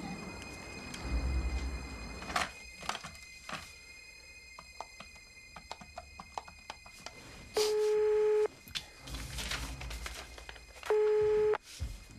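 A call placed to a doctor's office, with handset clatter and dialing clicks, followed by two bursts of a repeating electronic busy tone, loud and close as if heard through the receiver.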